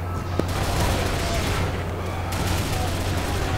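Rapid gunfire from weapons in the video game Final Doom: TNT, a dense continuous barrage with a steady low hum underneath, loud and close, with no talking over it.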